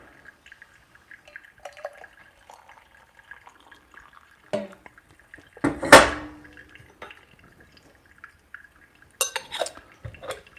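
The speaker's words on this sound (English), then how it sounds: "refill my hot water" Sparse clinks and taps of kitchenware with a brief burst of pouring water refilling a hot water kettle while brewing pour-over coffee, then a few more clatters; quiet and close, with no talking.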